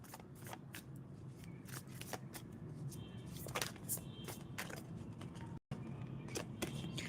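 Tarot cards are shuffled close up, with quick, repeated papery riffles and slaps in bursts. The shuffling runs steadily, with a brief dropout partway through and no speech over it.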